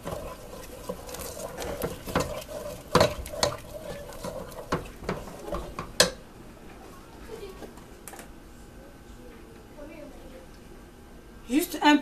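Peanut paste sauce with tomato stirred in a pot, giving soft wet patters and scraping clicks in quick bursts for several seconds, then quieter with a few scattered knocks.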